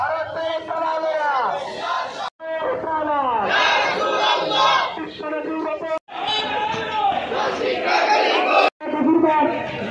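A crowd of local worshippers and mosque imams marching in a protest in Srinagar chants slogans in loud, rhythmic unison. Each long shouted phrase is broken by brief pauses.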